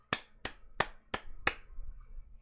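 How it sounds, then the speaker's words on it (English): Hands clap five times in an even, quick rhythm, each clap sharp and close, followed by a short quiet pause. "Clap my hands."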